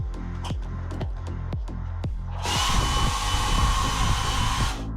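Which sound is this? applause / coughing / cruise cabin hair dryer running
cruise cabin hair dryer running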